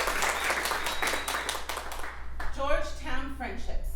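Audience applause at a live comedy improv show, a broad wash of clapping from a crowd voting on a story, fading after a couple of seconds as a voice begins talking over it.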